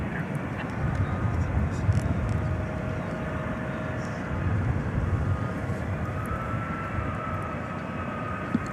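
An airliner passes low on its landing approach at night at DFW Airport, a steady, moderately distant engine drone with a faint thin whine that neither swells nor fades much.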